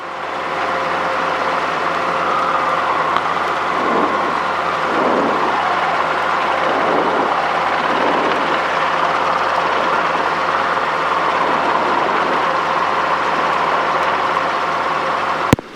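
A Robinson R22 helicopter's engine and rotor run steadily at a helipad pad before takeoff, a loud continuous drone with pulsing low rotor beats throughout, close and unbroken.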